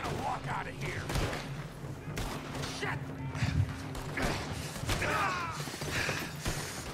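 Gunfire in a Red Dead Redemption 2 shootout: repeated sharp shots crack out at irregular intervals, some close and loud, with mechanical clicks between them and someone talking over the fight.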